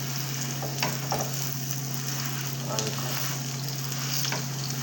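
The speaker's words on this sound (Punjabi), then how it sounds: "ਆ ਵੇਖੋ ਐਵੇਂ ਥੱਲੇ ਘੇ ਪਾਉਣਾ ਹੈ ਆਪਾਂ।" Cauliflower paratha frying in ghee on a pan, a steady close sizzle with soft crackles and occasional scraping, under a constant low electrical hum, with no speech.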